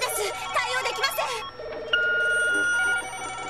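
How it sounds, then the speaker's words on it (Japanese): Telephones ringing in an anime office flooded with complaint calls: a voice at first, then electronic phone bells trill steadily, with one loud tone starting partway through and holding to the end. "かなりの苦情の電話が。"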